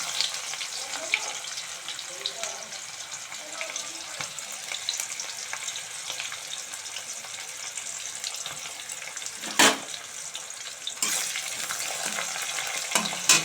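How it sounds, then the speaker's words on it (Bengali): Onions fry in oil with black cumin seed for a spicy dried fish curry, making a continuous soft sizzle close by, broken by a few brief scraping stirs. "পেঁয়াজটা একটু লাল করে ভাজা হবে"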